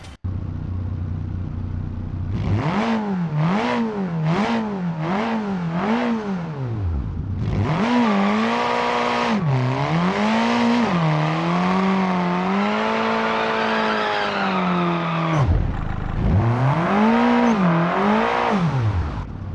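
Custom car engine and exhaust in BeamNG, revving in quick repeated bursts, then climbing through long pulls with pitch rising and dropping between gears, ending in another run of short revs, loud and close throughout.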